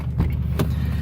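A 2018 Toyota Tundra with a Gibson Performance Metal Mulisha exhaust idles while warming up, giving a steady, low, close rumble with slight pulsing and no voices.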